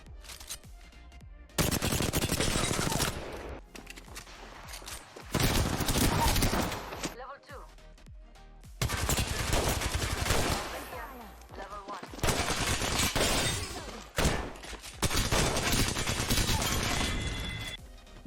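Bursts of rapid automatic gunfire from the video game Apex Legends, played on Nintendo Switch, come in several loud volleys separated by short quieter gaps.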